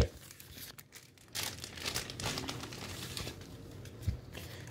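Thin plastic sticker packet for a Redragon Diomedes headset torn open and crinkled close by, with sharp rustling bursts and a brief tearing crackle, alone and fairly quiet.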